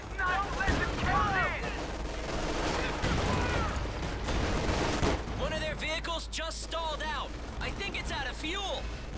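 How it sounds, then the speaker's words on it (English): MG42 machine gun fire in Company of Heroes 2, aimed at a half-track's front armor during an Ardennes battle. Rapid bursts crackle alongside other gunfire under dense game sound, with a voice talking over it. "Wow, machine guns to the front armor."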